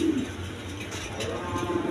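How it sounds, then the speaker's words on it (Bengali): A brief low coo from a pair of Beauty pigeons sounds nearby, soft and short, over a quiet background. "দেখেন কোয়ালিটি সম্পন্ন কবুতর।"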